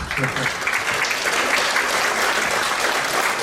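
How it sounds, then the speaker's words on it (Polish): Audience applause at an anniversary ceremony of a regional association, a thick, sustained clapping that starts with some voice underneath and settles into an even, loud wash. "serdecznie, wielkie brawa Pani Marta"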